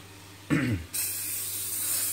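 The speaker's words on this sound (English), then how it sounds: "Every time I spray for about 3 to 5 seconds, there's about 10 grams thereabouts of coconut oil." Coconut oil spray hitting a hot pan: a short hiss burst lasting under half a second, followed by a steady bright sizzle that continues to the end, with no talking.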